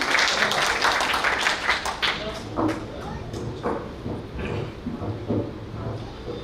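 An audience at a kavi sammelan at Pratap Gaurav Kendra in 2025 breaks into loud applause for poet Prakash Nagori. The clapping is strongest at first, then thins and fades as a voice begins speaking over it.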